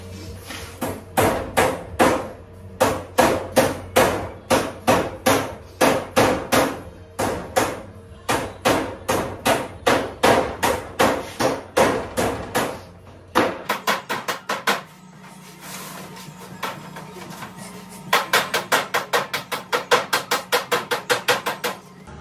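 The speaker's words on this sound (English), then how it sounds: "I'm gonna go ahead and take those down with this ball peen hammer" Ball peen hammer knocking down sharp edges of expanded metal set in a trailer ramp frame: a long run of rapid, loud metallic strikes in steady bursts, close by, with a short pause before a final flurry.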